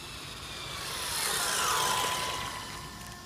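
An electric motor in an RC model revs up with a rising, then falling whine over a rough whir, loud and close. It makes one smooth swell that peaks midway and eases off.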